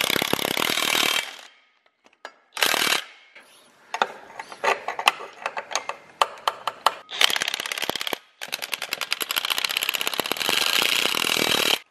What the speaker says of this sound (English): We're about to do up the prop bolts.